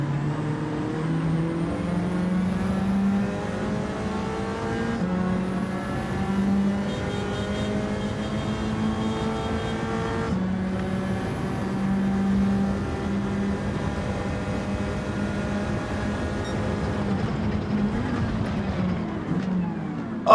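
Race cars roar continuously in Gran Turismo 7 lobby racing, several engines droning loud and close with rising and falling gear-change whines as the pack heads into a corner.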